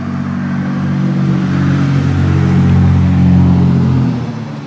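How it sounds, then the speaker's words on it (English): A loud car with no muffler passing down the street, a deep rumbling engine drone that swells as it approaches and fades near the end, dominating the scene. "Does everyone not have a muffler coming down the street?"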